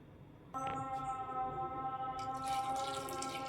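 Water runs steadily from a tap into a pot, a continuous splashing stream that starts suddenly and keeps flowing, close by, with no talking.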